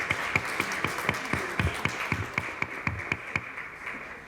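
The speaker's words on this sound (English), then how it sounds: "So another round of applause for a really wonderful club." A small audience claps for a school club at a board of education meeting, a steady run of separate handclaps that sound moderately near in a quiet room.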